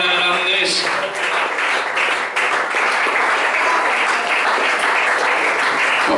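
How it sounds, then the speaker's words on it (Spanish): Church congregation applauding in a steady, loud wash of clapping that fills the space, with a voice speaking over it at the start. "Y mientras tu pueblo te aplaude, Jesús de Nazaret, te da toda la gloria"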